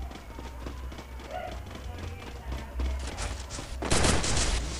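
Gunshots in the battle-royale video game Free Fire during a 4v4 tournament match, scattered shots and bursts that grow louder and heavier toward the end, heard under someone commentating.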